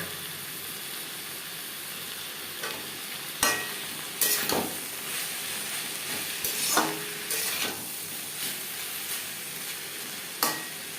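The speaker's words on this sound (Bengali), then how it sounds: "এভাবে নাড়াচাড়া করে ড্রাই করে নেব গ্যাসের ফ্লেমটাকে রাখবো হাই টু মিডিয়াম" Ridge gourd with grated coconut being stirred and dry-fried in a pan over a high-to-medium gas flame, a steady sizzle broken by several sharp scraping strokes of the spatula, close and clear with no talk.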